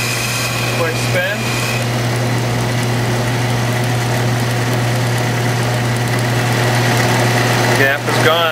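A lathe spins steadily while turning a pool cue ferrule, a loud, close, even whirring hum that runs without a break.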